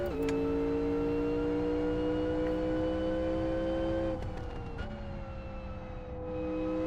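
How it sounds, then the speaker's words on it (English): Race car in the racing game Live For Speed with a flat-plane-crank V8 character, engine holding high revs and then dropping off throttle with a few short crackling pops on the overrun, loud and alone. "Some popping and banging on the overruns as we get off the throttle."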